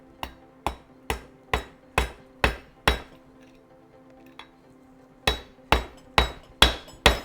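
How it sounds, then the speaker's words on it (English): A mallet taps a transmission seal into a Toyota Lexus W55 or W58 manual gearbox through a 13 mm socket, sharp close metallic knocks in a steady run of seven, a brief pause, then six more. "you just tap it in with the mallet and you should be good"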